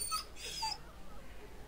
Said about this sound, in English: Oh, I love the dog.